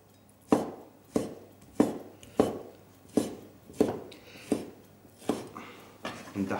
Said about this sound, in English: we're just going to cut it through into slices